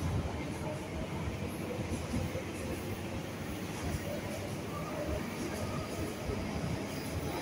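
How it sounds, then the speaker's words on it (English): An MTR East Rail line train rumbles and clatters steadily as it pulls away from Tai Wo station, a constant low roar with faint voices in the background. "please stand behind the yellow line as the train is about to leave."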